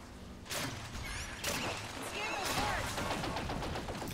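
Napalm grenades lobbed from high ground during an Evolve video game match, heard as repeated muffled blasts and crackling fire with whooshing bursts layered over a continuous battle din.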